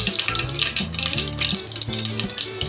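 Asafoetida, cumin and mustard seeds tempered in hot oil for sambar, giving a loud, continuous close sizzle and crackle with spitting pops throughout.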